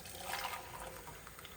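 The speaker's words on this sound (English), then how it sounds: "now I'm going to add 600 ml of boiling water to this" Boiling water, 600 ml, being poured into a pan for ramen, a faint trickling, splashing pour that runs steadily with small bubbling variations, close by and without speech.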